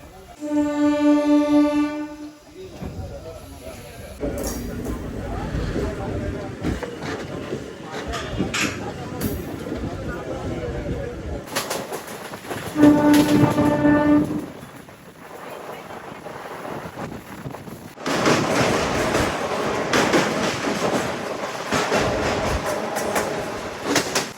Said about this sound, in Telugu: పక్కన ఏ బండి అనుకుంటున్నారు? LHP కోచ్తో Simhapuri ride sharing ఫల్క్నుమా.